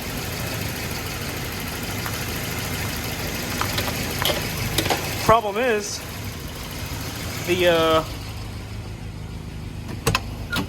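A redblock car engine idles at 750 rpm with a steady low rumble while someone talks over it in short bursts.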